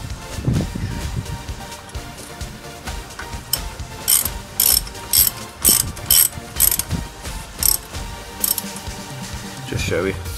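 A ratchet wrench clicks in quick repeated bursts while loosening the front brake caliper bolts on a Ford Mondeo, with short pauses between strokes and close, crisp mechanical ratcheting.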